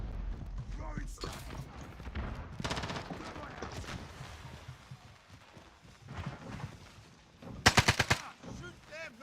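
AK-47 fire in a multiplayer shooter video game, scattered shots and then a loud rapid automatic burst near the end, mixed with game mechanism clicks and players talking.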